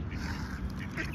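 A mother duck quacks in a few raspy, nasal calls set against a low outdoor rumble. The calls are moderately close.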